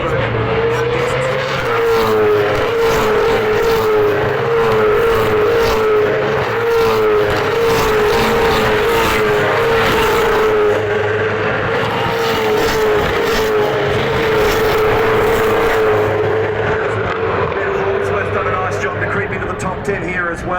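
Supercars race cars at the Adelaide 500 street race, engines roaring loudly and continuously through the opening lap, with a steady droning pitch and commentators talking over the noise throughout.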